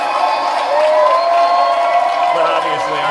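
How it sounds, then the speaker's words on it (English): A live audience applauds and cheers for a performer named Jim, producing a dense, steady, loud wash of clapping and crowd noise throughout. "let's give the beautiful Jim a huge round of applause"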